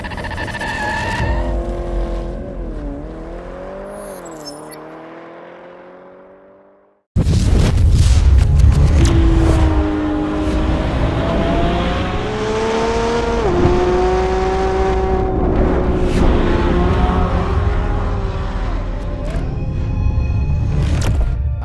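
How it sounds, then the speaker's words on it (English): A Lamborghini Revuelto, a V12 plug-in hybrid supercar, drives on the Vallelunga track. Its engine note rises and falls through the gears, then bursts into a loud, sustained high-revving roar with tire squeal, close and dominant, with no talking. "take you on board the Lamborghini Revuelto, the first V12 plug-in hybrid"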